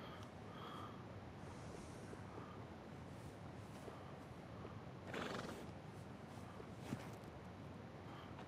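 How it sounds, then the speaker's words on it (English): A standard horse in the video game Red Dead Redemption 2 neighs and whinnies once, a bright rising call near the middle, over a steady bed of ambient game sound with faint hoof clops. "This is a standard horse."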